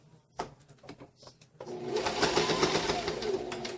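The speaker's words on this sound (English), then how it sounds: "I tend to do 3 back stitches." A sewing machine back-stitching a DIY lanyard, starting with a few short clicks and taps, then running in a steady whirring burst of stitching for about two seconds, close and moderately quiet.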